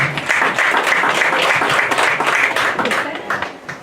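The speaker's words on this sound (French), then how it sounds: "mesdames et messieurs, sous vos applaudissements" A crowd at a Miss and Mister election pageant applauds candidate number 3, with sustained clapping that fades toward the end.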